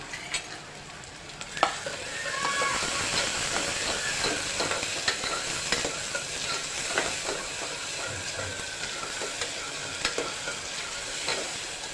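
Finely chopped tomatoes added to a pan of hot onion sizzle and fry, a continuous bright hiss with scattered crackles and occasional stirring scrapes, close and steady.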